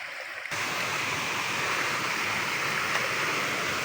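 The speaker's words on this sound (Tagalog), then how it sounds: "Mga bukal po to sa gilid ng bundok eh." Water from a mountain spring beside a stream flows with a continuous soft rushing hiss, starting suddenly after a quiet half second and holding steady and fairly faint throughout, with no voices.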